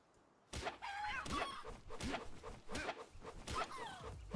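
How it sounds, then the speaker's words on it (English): Chicken in the video game Palworld, clucking and crowing in a run of loud, close squawks that rise and fall for about four seconds, with no talk over it. "Alright, let's pick on the chicken."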